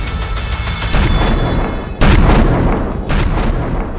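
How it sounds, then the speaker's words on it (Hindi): Bomb blasts during an attack in Prayagraj: loud booming explosions, one near the start, a sharp heavy blast at two seconds and another around three seconds, all within a few seconds of each other. "3 सेकंड के भीतर 3 बार बम से अटैक।"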